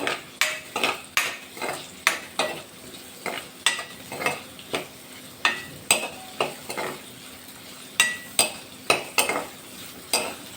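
Chopped garlic, ginger, green chilli and onion cook in a pan over medium heat while a spoon stirs them, giving steady repeated sharp scrapes and taps against the metal over a low sizzle.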